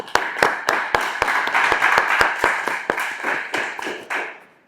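A small audience at an impromptu speaking session claps for a speaker in a quick, fairly close run of distinct hand claps that slows and thins before stopping.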